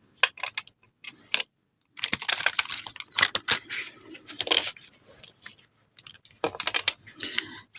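A tarot card deck being shuffled up close, heard as several bursts of quick, crisp card flicking and riffling separated by short pauses.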